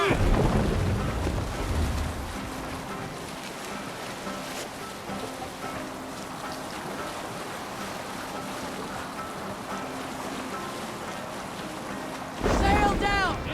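Sailing ship under sail in Assassin's Creed Valhalla, with steady wind and water rush filling the scene, a surge of splashing and creaking near the end, and crew voices faintly calling out underneath.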